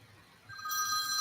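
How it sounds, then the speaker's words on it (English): A telephone rings during a live online show, the bell-like tone starting partway in and sounding steadily over faint room noise. "There's a lot of phone calls going on."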